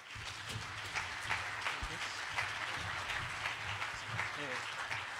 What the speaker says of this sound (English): So please give a round of applause to Antony Sammeroff.